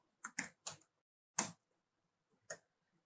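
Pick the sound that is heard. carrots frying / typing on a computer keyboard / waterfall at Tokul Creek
typing on a computer keyboard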